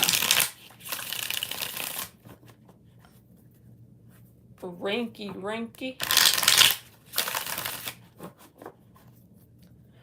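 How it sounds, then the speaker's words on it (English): Tarot cards being shuffled by hand during a live reading, several bursts of crisp riffling and flapping separated by pauses, close and fairly loud, with someone speaking between shuffles. "6 shuffles for Kenna."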